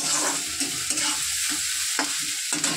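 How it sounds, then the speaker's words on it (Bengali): Whole dried red chillies and garlic fry in hot oil, a bright steady sizzle broken by repeated scraping stirs of a spatula against the pan, close and loud, with no talking. "গোটা শুকনো লঙ্কা, রসুন সব ভেজে নেব।"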